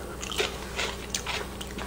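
Close-up crunchy bites and chewing on baked cheese, a quick series of crisp cracks over a couple of seconds.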